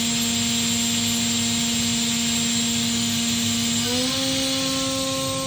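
A 2011 Makino F5 machining center spindle spinning at 14,000 RPM, a loud steady high whine with a constant tone that steps up in pitch near the end as the speed changes.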